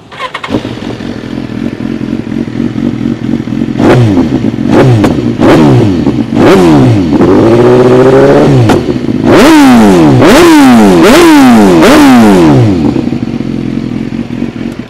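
A 2016 BMW S1000RR with full system exhaust cranks and fires up, then revs hard several times in sharp bursts, loud and close, before settling back to a throaty idle.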